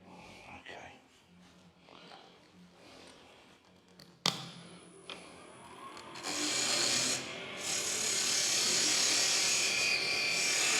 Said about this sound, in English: I'm going to cut the mortise on there.